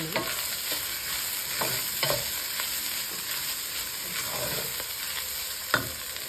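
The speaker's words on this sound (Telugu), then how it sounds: "నేను జస్ట్ ఊరికట్లా కలిపేసాను ఆయిల్లో అండి" Burrito filling with squeezed lemon and red chilli sauce being stirred in hot oil in a pan, a steady close sizzle with irregular scraping strokes of the spoon and one sharper knock near the end, no talking.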